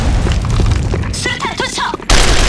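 A grenade explodes in the online shooter Sudden Attack: a sudden loud, broad boom near the end that cuts through steady game noise and voices.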